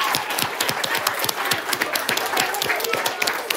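An audience claps at the grand final of a regional quiz show on stage, dense and close, with quick overlapping claps continuing evenly through the whole clip.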